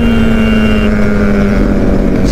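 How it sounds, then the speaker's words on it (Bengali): A 450 cc motorcycle is ridden at speed, its engine a loud, close, steady drone that dips slightly in pitch partway through, with wind rushing over the microphone. "আমাদের কোথায় 450 সিসির বাইক আর ওরা 250 সিসির বাইক নিয়ে"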